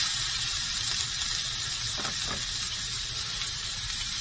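A nearly two-inch-thick steak sears in a hot pan on the stove, a steady close sizzle and hiss with a couple of brief sputtering pops midway.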